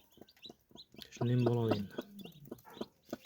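Newly hatched chicks of marble and Brahma breeds with a hen, clucking and peeping in short calls, one louder sustained call in the middle, heard close with someone talking over them.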